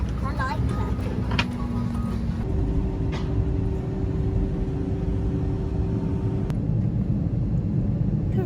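Airplanes at an airport, heard from inside as a steady loud engine roar and hum with a shifting tone. Voices talk over it.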